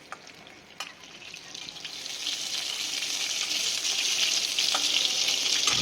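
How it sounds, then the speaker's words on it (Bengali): Pointed gourd (potol) pieces frying in hot oil in a pan, a sizzle that thickens and grows louder and steadier, with a few faint clinks early on. "আমি পটলগুলোকে একটু লাল লাল করে ভেজে নিচ্ছি"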